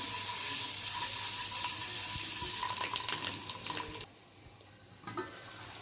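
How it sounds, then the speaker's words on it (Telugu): Water splashes continuously into a pan of cooked tomatoes for tomato egg curry for about four seconds, then cuts off, leaving a faint low sizzle and a brief clink. "మనం కొంచెం వాటర్ యాడ్ చేసుకున్నాం ఇందులో"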